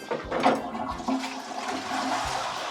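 An old British toilet flushes in one continuous rushing, gurgling burst of water, close and fairly loud, with no talk over it.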